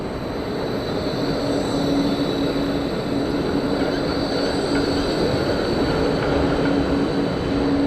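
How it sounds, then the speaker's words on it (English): Continuous rumbling and rattling of a tram rolling past on street rails, with a faint metallic squeal, heard steadily at moderate distance. "We've got the trams rattling past"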